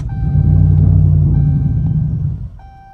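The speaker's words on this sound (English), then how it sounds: "Let's first get my car started, get warmed up, because these 85 cold starts are not friendly." A Dodge Charger Scat Pack with a Corsa Extreme cat-back exhaust, cold-started, gives a deep, loud rumble near the mic that sags and fades near the end, suggesting the idle fails to hold.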